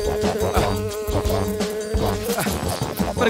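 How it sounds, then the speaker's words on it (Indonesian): A bee buzzes close by in a children's playground, a loud continuous drone with wavering pitch that carries on for several seconds with no talk over it. "Pergi kau, lebah."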